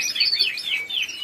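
Timbrado canaries sing in a close, continuous run of bright warbling trills and chirps, with no voices.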